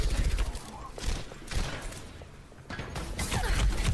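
An enemy turret fires in the video game Overwatch: rapid bursts of shots crackle in uneven volleys across a few seconds, mixed with other game effects.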